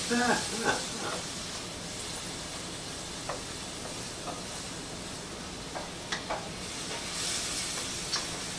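Mushroom herb shepherd's pie filling simmers in a pan with a steady, soft hiss and faint bubbling, plus an occasional light tap.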